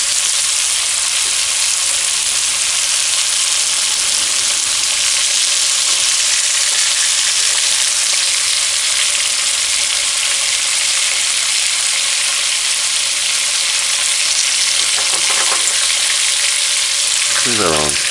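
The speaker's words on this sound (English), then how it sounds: "flip it and allow frying on this side." Loud, steady sizzling of chicken frying in a hot pan, a constant crackling hiss with a brief scrape near the end.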